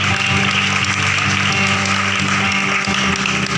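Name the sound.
congregation clapping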